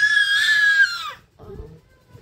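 A one-year-old toddler lets out a loud, sustained high-pitched scream for about a second, then a short lower vocal sound follows after a brief pause, close and indoors.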